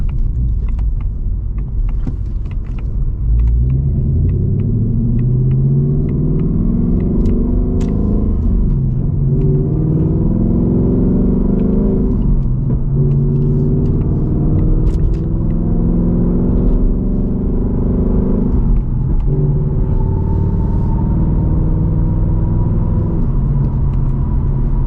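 Ford S650 Mustang GT exhaust popping on gear shifts: a heavy, loud engine rumble climbs through several gears, each shift marked by a dip and short crackling pops before the revs build again.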